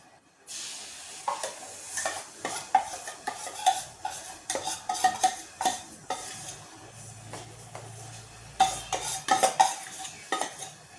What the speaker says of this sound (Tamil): சிம்லே வச்சு நல்லா கிளறிட்டே இருக்கணும்